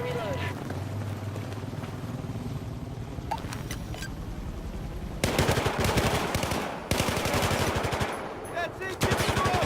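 Battlefield 4 gunfire in a chaotic combat scene, with sustained machine-gun bursts and heavy shots that grow louder and denser in the second half, beneath a steady background rumble and intermittent voices.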